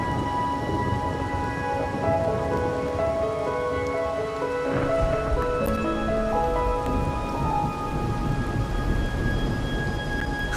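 Steady rainfall with low rolling thunder, accompanied by soft sustained musical tones in the background, in the video game Wuthering Waves.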